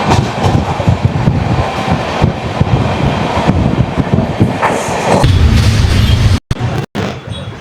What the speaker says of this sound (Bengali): ট্রেনের মধ্যে কোনো জার্কি কি মালুম হচ্ছে না, এত স্মুথলি যাচ্ছে ট্রেনটা